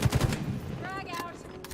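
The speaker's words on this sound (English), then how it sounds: "That was the fucking shotgun" Gunfire from a first-person shooter video game: a few sharp, loud blasts at the start, likely shotgun fire, then game noise and a chirping effect trailing off.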